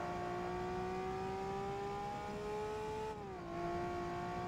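A car engine in Forza Motorsport holds a steady high revving whine, its pitch climbing slowly before a brief dip as if shifting gear, then settling again, loud and continuous with no talk.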